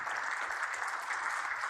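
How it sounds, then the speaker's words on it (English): Steady applause from a banquet audience at a church fellowship sportsman's banquet, a dense even wash of many hands clapping at moderate distance, holding at one level throughout with no voices. "Round of applause here for Pastor Ben and"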